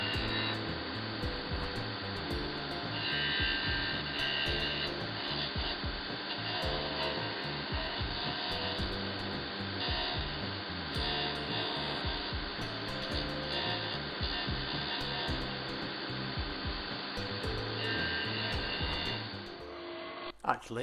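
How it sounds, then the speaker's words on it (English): Oscillating bobbing sander shaping a wooden bread knife handle, a continuous motor hum under steady rubbing and grinding as the wood is pressed to the spindle, close and sustained until a brief stop near the end. "Actually, it's an oscillating bobbing sander, not a drum sander."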